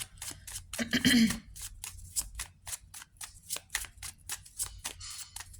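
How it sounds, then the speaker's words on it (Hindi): Tarot cards being drawn and handled from a deck, a quick riffle of shuffling followed by a run of light, evenly spaced card flicks and slaps, close by and quiet. "let me take 2 more cards"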